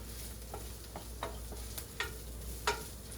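Leftover cooked meat reheating with onion and cayenne pepper in a pan gives a quiet, steady sizzle broken by a few soft clicks and scrapes of stirring, with no talking.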